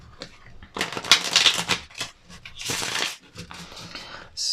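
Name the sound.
tarot cards being shuffled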